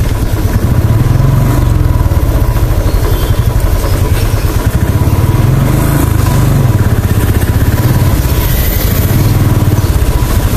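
A Royal Enfield Bullet motorcycle engine runs with a loud, steady thumping beat, heard up close throughout on a rainy road in Pokhara.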